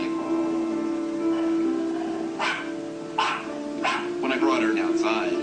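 A human voice mimics a skittish little dog, making several short growly, yippy bursts over a low steady hum in a quiet room.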